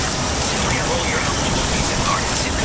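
Heavy, steady rain from Tropical Storm Debbie on Anna Maria Island, Florida, a dense, unbroken wash of noise close around with no pauses.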